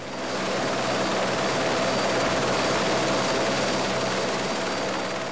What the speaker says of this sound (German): Heute fliegen von hier aus Dutzende Hubschrauber Touristen über die Stadt.